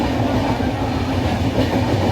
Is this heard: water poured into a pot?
no